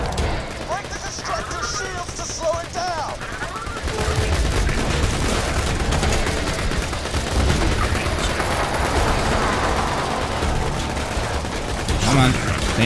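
Rapid automatic gunfire and blasts from a Borderlands 2 boss fight, dense and continuous for most of the stretch, with a player talking over the shooting.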